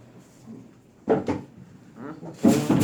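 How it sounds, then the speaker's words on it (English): A few sharp knocks on a door, a quick cluster of hard raps followed by another louder burst near the end, set against quiet room background with faint voices. "Someone's knocking."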